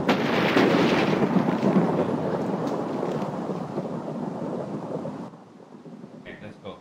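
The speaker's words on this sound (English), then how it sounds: "Oh, it's so much rain today. Why so much rain?" A loud thunder rumble rolls over steady heavy rain in the Minecraft video game, then fades out toward the end.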